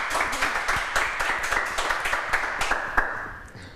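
Audience clapping at a youth pageant in Guadeloupe as the next contestant comes on, a dense, steady round of applause that fades toward the end, with no talking over it.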